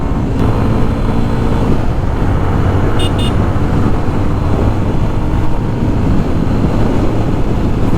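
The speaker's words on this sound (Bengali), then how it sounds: "এবার ফোর্থ গিয়ার একশো উপরে ক্রস করে" A Yamaha FZ250 motorcycle pulls hard in fourth gear past 100, its steady engine drone mixed with heavy wind rush, loud and continuous throughout.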